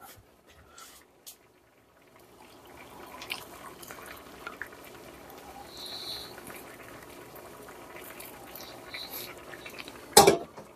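A pot of rice milk bubbling and simmering steadily on a stove after a few quiet clinks, the boil building up until it boils over, ending in a sharp clatter of metal.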